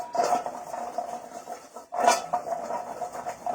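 Carrot fries tossed with salt and oil in a bowl, two bursts of clattering, scraping tosses about two seconds apart, close and fairly loud, no voices.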